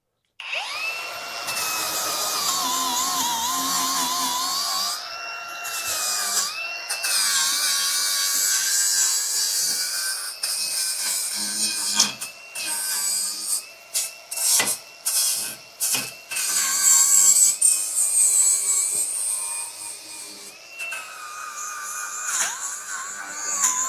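A cordless DCA 20V 4-1/2" angle grinder fitted with a 60 grit disc whines at high pitch, loud and close, with repeated bursts, pitch changes and stop-starts as it bites and is loaded down.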